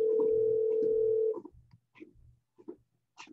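A steady single telephone tone rings out for over a second during a cold call, then cuts off into short, faint electronic blips and clicks on the line.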